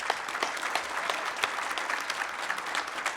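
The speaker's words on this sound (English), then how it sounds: "can we have a round of applause for our..." An audience applauding steadily and fairly close, a dense patter of many hands clapping with occasional sharper claps standing out.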